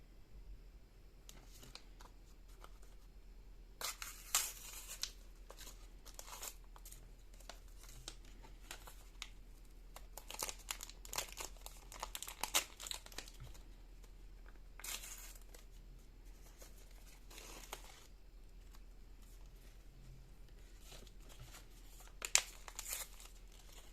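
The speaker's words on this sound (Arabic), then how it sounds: "بصوا بقى بيتقطع بسهولة ازاي، سهل خالص ولذيذ" Paper or plastic of a children's gift bag crinkles and tears in scattered bursts, some quick rips and rustles spread over a quiet background, close by with no talk.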